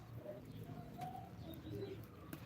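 Soft, low cooing of pigeons in a loft, several overlapping calls at moderate distance over a quiet background hum, with a few faint chirps.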